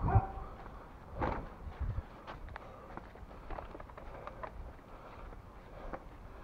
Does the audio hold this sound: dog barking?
yes